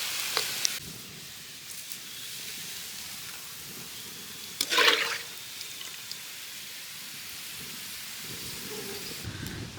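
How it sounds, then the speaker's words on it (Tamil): Onions fry in coconut oil for a Kerala-style fish biryani cooked village style. A faint, steady sizzle runs throughout, with one brief louder crackle near the middle. No one speaks. "இந்த பதத்துக்கு வரணும் வெங்காயம் பொரிஞ்சு."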